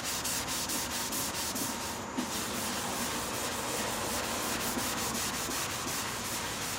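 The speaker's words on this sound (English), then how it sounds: "This is lacquer thinner. I'm going to take some of this paint off." A rag soaked in lacquer thinner is rubbed back and forth against a painted car quarter panel, giving steady, close scrubbing strokes in quick rhythm with no talk.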